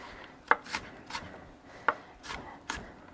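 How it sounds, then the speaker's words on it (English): Knife dicing three small apples into small pieces on a board, sharp isolated chops in an uneven rhythm with short scraping strokes between them, close and clear with no talk. "I'm just dicing it up nice and small so that it softens"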